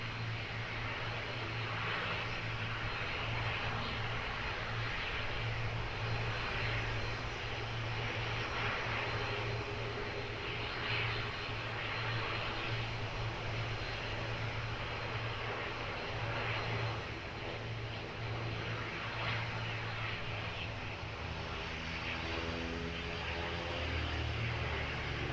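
Airplane engines at Lisbon Airport give a steady, continuous drone with a low hum, holding moderately loud and unbroken throughout.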